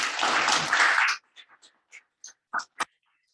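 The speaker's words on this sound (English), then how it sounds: "let's all give them a round of applause." Audience applause after a book event with an author and interviewer, a dense burst of clapping lasting about a second that quickly stops, followed by a few scattered faint claps and small noises.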